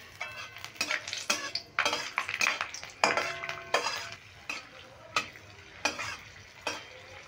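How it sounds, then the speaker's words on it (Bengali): A spoon stirs panch phoron tempering with a slit green chili in a hot pan for a Bengali cabbage dish, producing repeated metal scrapes and clinks over a light, crackling sizzle. "কাঁচা লঙ্কাটা দিয়েও আমি ভালো করে ফোড়নটা নেড়ে নিলাম"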